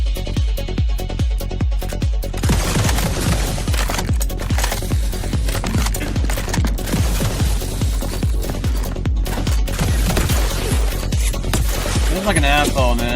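Rapid, loud gunfire from a single gun in the video game The Outer Worlds 2, a steady stream of sharp shots running throughout with dense game effects layered underneath.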